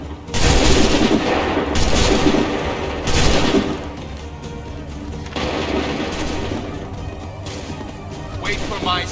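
Loud gunfire fusillade: repeated crashing volleys of shots in several heavy bursts, with a sustained noisy battle roar in between and a final sharp crack near the end.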